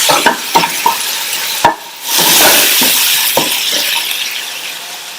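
A spatula scrapes and taps in a hot pan as dosa filling sautés, sharp clinks repeating over a steady, loud sizzle that swells midway and continues to the end.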